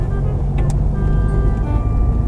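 Car engine idling and pulling away at low revs during a driving lesson turn, a steady near rumble that holds throughout with no voices.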